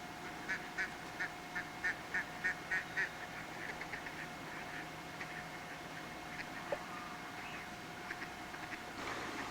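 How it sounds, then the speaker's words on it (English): Ducks at a park pond quack in a quick run of about a dozen evenly spaced calls, fairly close, then fall quiet apart from a few scattered later calls over faint outdoor background noise. "And here's a few of the ducks."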